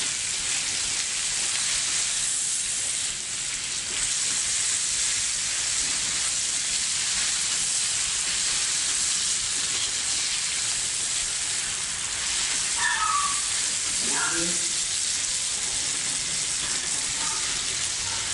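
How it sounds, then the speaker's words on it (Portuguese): Onion and garlic sauté in a pan for feijão tropeiro with a steady, fairly loud broadband sizzle that runs unbroken throughout, with a few faint clinks near the end. "E a gente vai dar uma refogada nessa cebola e nesse alho."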